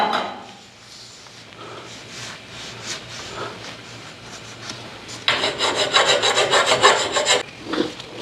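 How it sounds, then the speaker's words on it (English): A hand file rasps on the metal shaft of a garage door spring, starting as light scattered scrapes and then turning into a loud, fast run of back-and-forth strokes near the end. "I'm just going to use this file."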